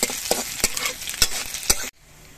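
Crushed garlic frying in oil with black cumin and dried chilli, a close crackling sizzle broken by sharp stirring clacks, ending abruptly in near silence.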